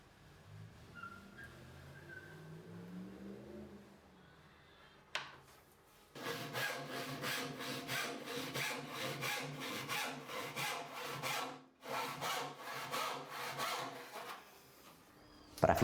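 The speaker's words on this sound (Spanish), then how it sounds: "luego corto con un serrucho dejando" Hand saw ripping through a wooden board for a traditional tool chest, steady rhythmic strokes close by after a quieter start, pausing briefly near the end.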